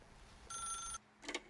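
Telephone in The Stanley Parable video game rings once with a bright electronic trill, then a shorter second burst follows after a pause, fairly quiet.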